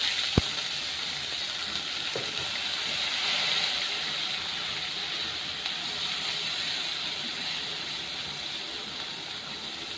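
Chilli paste spatters in hot oil in a pan, a continuous close hissing crackle with a sharp tick near the start, holding at an even level throughout with no talking.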